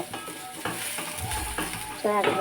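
Ginger, chili and garlic frying in oil in a pan for momos, with a steady sizzle broken by stirring scrapes and a louder crackling burst near the end; no talking.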